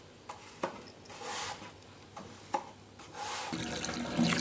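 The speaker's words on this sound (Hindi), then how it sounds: "ये आलू को मैंने 3 से 4 पानी में धो लिया है" Sliced potatoes for chips being washed in water: intermittent splashes and sloshing with a few sharper swishes, then a steadier pour of running water toward the end.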